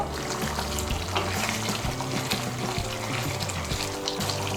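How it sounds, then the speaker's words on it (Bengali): Garam masala powder is stirred into a potato curry in a pan, with rhythmic scraping strokes of a spoon over a constant frying sizzle, close and loud with no talk. "গরম মশলার গুঁড়োটাকে ভালো করে মিশিয়ে নেব।"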